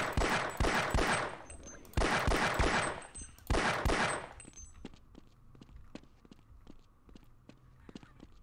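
Rapid bursts of automated turret gunfire in Half-Life, loud dense volleys in three clusters, then a steadier stream of sharp single shots trailing off, with no talking.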